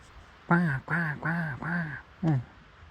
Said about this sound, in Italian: Ecco, il corvo, corvo, corvo.